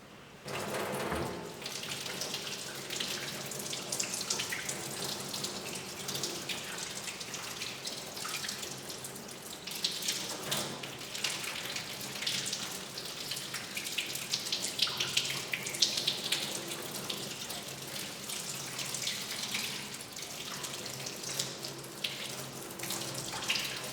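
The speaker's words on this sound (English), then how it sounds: "then rinse all of this off" Tap water runs steadily into a sink while soapy hands are rinsed, a continuous hissing splash with small fluctuations, close and moderately loud, no talking.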